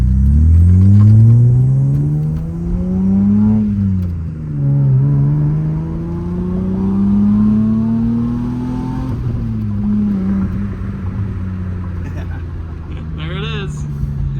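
A 1995 Ford Probe GT with a five-speed manual hums and drones from inside the cabin as it drives, its engine pitch rising and falling through gear changes while people talk over it.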